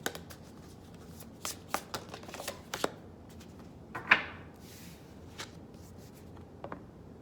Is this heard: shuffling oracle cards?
yes